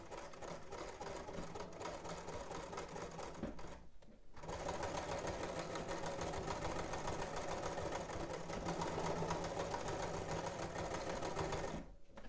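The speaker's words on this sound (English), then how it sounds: "We're just making a straight stitch at 5/8 of an inch." A sewing machine runs a straight stitch along a 5/8-inch seam on a garment, a steady fast mechanical whir that stops briefly once, then resumes.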